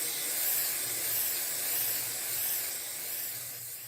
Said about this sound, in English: I only got about a third of this tree sprayed.